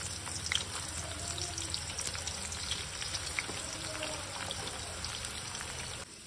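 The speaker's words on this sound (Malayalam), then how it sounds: "ഇനി ചൂടായ സമയത്ത് നമുക്ക് ഇവിടെ അരിഞ്ഞ് വെച്ചിരുന്ന സവോള നമുക്ക് പൊരിച്ചും എടുക്കണം." Sliced onions fry in hot oil in a kadai, a dense, even crackling sizzle that holds steady and close for several seconds before dropping off at the very end.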